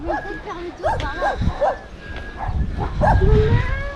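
A farm dog barks in a few sharp bursts outdoors near fields, close and loud, with a person speaking over and between the barks.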